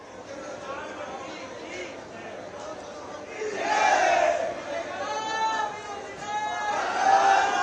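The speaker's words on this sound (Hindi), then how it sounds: "यहां आए सभी भक्त पूरे जोर शोर से भोले बाबा का नाम ले रहे हैं।" Crowd of devotees at Kashi Vishwanath temple loudly chanting Bhole Baba's name during Mahashivratri, a dense, continuous roar of many voices with rising and falling surges of shouting.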